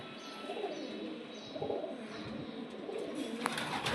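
Home-bred Petiya Jhamra pigeons coo softly at close range, low murmuring calls running continuously under a busy, rustling background with a few sharper chirps.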